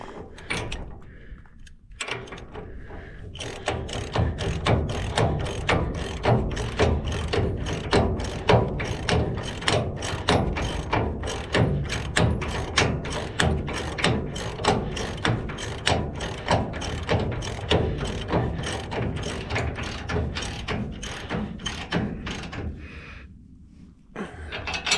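A ratchet tightening nylon lock nuts, a long run of rapid, evenly spaced clicking strokes up close, repeated steadily for over twenty seconds with brief pauses at the start and end.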